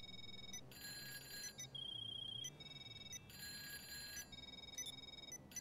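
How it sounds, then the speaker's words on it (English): A mobile phone ringtone in the GTA 5 video game plays as bright repeating electronic tones in short bursts over a low steady background hum. "A new ringtone."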